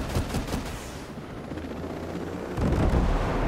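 Sustained gunfire in the Ghost Recon Breakpoint video game, a dense continuous rattle of shots and rumbling blasts that swells louder near the end, with no talk.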